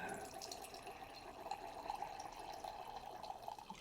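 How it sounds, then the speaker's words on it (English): Rockbrook 2017 Cabernet Sauvignon poured into a glass, a soft steady trickle of liquid running for a few seconds with faint drips, close and fairly quiet, no talking. "let's go ahead and pour this wine"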